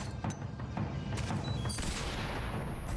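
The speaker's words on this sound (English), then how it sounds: "Stun grenade." A stun grenade going off in Metal Gear Solid 3, a sharp burst amid several cracking impacts, followed by a loud, sustained roaring wash with a thin high ringing tone lingering over it, and no voices.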